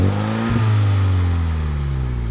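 A 2021 Mini JCW GP engine idles with a low, steady exhaust rumble, briefly blipping the throttle early on before settling back to a constant drone, with no crackles or pops.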